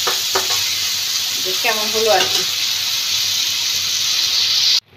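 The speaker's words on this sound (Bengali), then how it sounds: "আর এই দেখো সেই ভাজা ভাজা করে সেই ডুমুর" Figs fry in a pan with a loud, continuous sizzling hiss that runs steadily throughout, while a voice speaks briefly over it before the sound cuts off abruptly.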